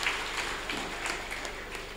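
A short burst of audience applause at a Tamil pattimandram debate stage event, a diffuse patter of many hands clapping at moderate distance, fairly faint and fading slightly over two seconds.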